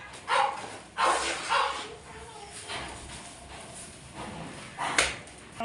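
Dogs barking in short repeated yips and woofs at a moderate distance, several sharp bursts spread irregularly over a few seconds against a faint background.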